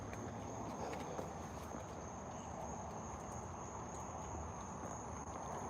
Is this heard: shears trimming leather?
no